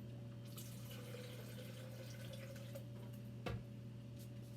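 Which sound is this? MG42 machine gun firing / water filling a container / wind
water filling a container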